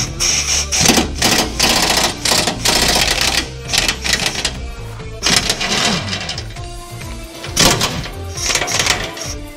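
A 16 mm socket on a ratchet loosens the front subframe bolts of a Renault Mégane 2 CC, with rapid clattering bursts of clicks separated by short pauses, close and loud.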